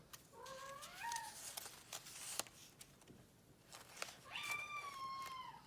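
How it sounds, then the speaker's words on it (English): A house cat meows twice during a craft session at a table, a short rising cry near the start and a longer drawn-out wail near the end, close and clear, with light rustling and tapping of paper between. "Sorry for the cat."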